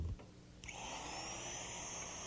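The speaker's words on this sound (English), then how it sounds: "You follow the outline, and the bit does the cutting." A power tool starts up and its bit cuts a hinge cutout into a bathroom door while installing it, jumping from a quiet knock into a steady, high-pitched whine that holds at moderate level.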